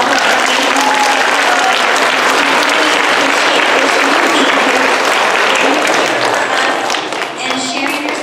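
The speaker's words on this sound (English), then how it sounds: "let's hear a nice big round of applause for our" Sustained, dense applause from an audience at a book launch in Delano fills the whole stretch, loud and steady, with a slight dip near the end.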